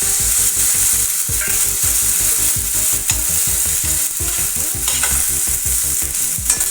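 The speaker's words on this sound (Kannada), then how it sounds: "ಫಸ್ಟು ಪನ್ನೀರು ಬೆಣ್ಣೆ ಹಾಕ್ಕೊಂಡು ಫ್ರೈ ಮಾಡ್ಕೊಳ್ಳೋಣ." Paneer fries in melted butter in a pan, a loud, dense sizzle broken by constant rhythmic scraping and stirring strokes of a utensil, close and continuous.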